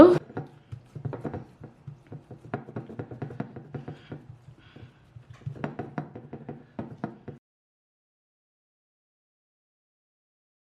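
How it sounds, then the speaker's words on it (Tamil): Coconut roti dough being patted flat by hand on a plate smeared with grated coconut: a quick series of soft, dull slaps in bursts, close and fairly loud, then stopping into silence. "இந்த பிளேட்டுக்கு நாங்கள் கொஞ்சம் தேங்காய் பூசுகிறேன் பூசிட்டு இதை வச்சுட்டு தட்டிடுங்க"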